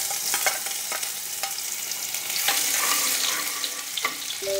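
Garlic sizzles in hot oil for palak paneer, a steady soft frying hiss broken by light scrapes and taps of stirring, near and fairly quiet.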